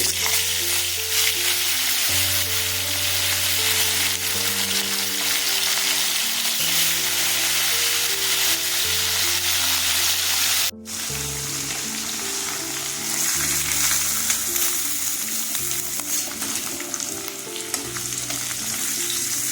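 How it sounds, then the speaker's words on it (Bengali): Fesha fish sliding into hot oil for a mustard-paste curry sizzles loudly and continuously, a dense close crackle broken by a brief dropout partway through before the frying resumes just as strongly. "তেলটা গরম হয়ে গেছে মাছ ছেড়ে দিচ্ছি"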